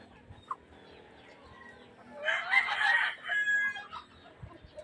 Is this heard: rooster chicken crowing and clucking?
yes